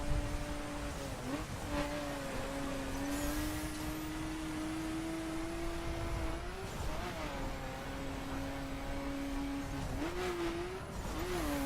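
A Nissan Skyline's engine in the racing game The Crew holds a sustained, moderately loud tone, with brief dips and rises at a few gear changes as the car drives on.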